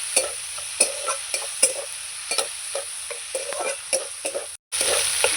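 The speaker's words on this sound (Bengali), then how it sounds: "একটু হলুদ একটু লবণ চিকেনটাকে আমি ভাজবো" Chicken pieces with turmeric and salt frying in a pan, a steady bright sizzle broken by repeated scraping stirs at an uneven rhythm, close and fairly loud, with a brief dropout near the end.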